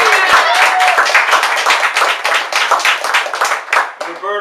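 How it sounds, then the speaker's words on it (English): An audience at a Long Beach Historical Society event claps for its founder, a dense, steady round of applause lasting several seconds, close and lively, with voices mixed in among the clapping. "let's have a round of applause for the founder of the Historical Society, Roberta Fiore."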